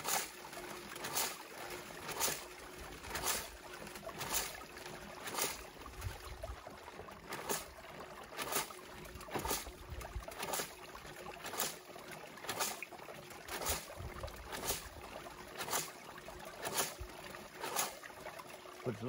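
Gold Grabber hand pump washing dirt down with water while sampling for gold, steady rhythmic pumping strokes about twice a second over trickling, splashing water, continuous and fairly close.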